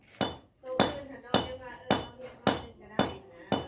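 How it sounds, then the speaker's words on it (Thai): A hammer strikes repeatedly to knock something loose, about seven sharp, evenly spaced metallic blows roughly every half second, loud and close with no talking. "น้องลินก็ตอกออกพี่น้องตอกออกน้องลินเลย"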